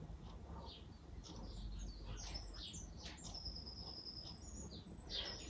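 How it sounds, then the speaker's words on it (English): Several birds sing and chirp in the early morning, scattered high calls and one sustained whistle over a steady low background rumble, fairly faint and distant. "I think the birds are waking up a bit now."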